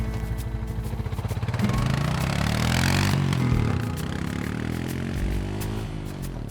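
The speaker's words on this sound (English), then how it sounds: "Hop on your ATV and let's explore the Hatfield-McCoy trail system" A rumbling ATV engine rolls along an off-road trail in the Hatfield-McCoy system near Matewan, West Virginia, holding a steady, fairly loud drone that swells as it revs midway, then eases back slightly.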